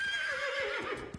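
A cartoon horse gives one short, clear neigh, a quavering whinny that slides downward and fades out, with no talk over it.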